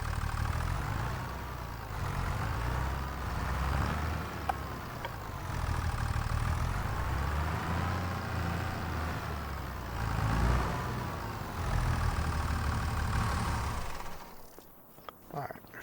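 A John Deere tractor engine idles steadily in Farming Simulator, a continuous low rumble with wavering mid-range tones and slight revving swells, before dropping off near the end.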